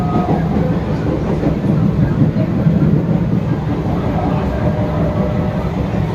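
Inside a moving Kolkata AC local train with iron seats, a loud, steady low rumble and rolling rattle fill the carriage, with faint voices mixed into the continuous noise.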